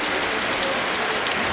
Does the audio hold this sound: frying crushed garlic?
no